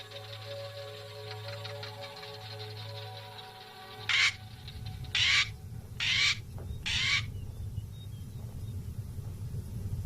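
Against a low background hum, a male black korhaan gives four loud, harsh croaking calls in quick succession during a display flight over dunes in the early morning, close by, then quiet rumble returns.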